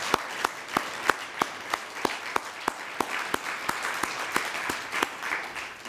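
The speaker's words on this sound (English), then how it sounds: "Will you join me in giving them a round of applause," Audience applause at a speech on pensions and corporate bankruptcy, a steady rhythmic clapping with sharp regular claps standing out over a continuous crowd wash, sustained for several seconds.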